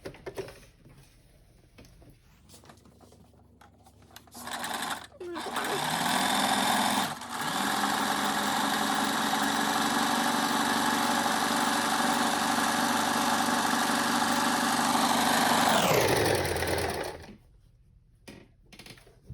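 A sewing machine runs a steady over-edge finishing stitch along fabric, its motor whirring continuously for about fourteen seconds before winding down. Quieter handling noises come before and after.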